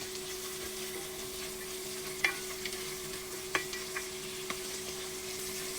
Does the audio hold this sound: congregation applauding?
no